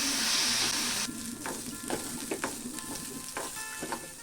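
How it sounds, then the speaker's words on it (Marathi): Rice with cardamom seeds roasts in ghee while a spoon stirs it. A loud hiss opens, then a steady sizzle runs under repeated scraping strokes. "तांदूळ परतून घेऊया तुपामध्ये"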